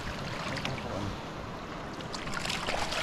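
A small wooden fishing boat rocks on open water off a Philippine island at night after a net is set, giving a steady, close wash of water and hull noise with wind and a few faint voices.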